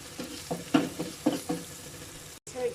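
Garlic frying in hot oil over softened onions, a steady sizzle broken by several stirring scrapes and clacks, close and moderately loud, with a brief dropout near the end.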